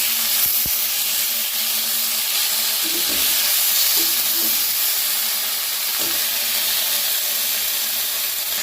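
Broad beans and tomatoes frying in a wok, a steady hissing sizzle throughout with a few faint stirring knocks, close and even in loudness.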